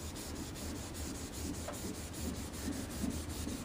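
A paint finish is hand color sanded in a cross pattern, giving a steady, close, dry rubbing rasp of sandpaper that repeats in short even strokes for the whole stretch, with no talking.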